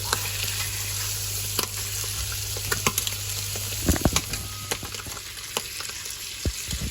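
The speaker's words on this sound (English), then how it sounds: "Now cook the bacon for however long you wish" Bacon sizzles steadily in a frying pan, a constant crackling hiss with occasional sharper pops and spatters, no voices.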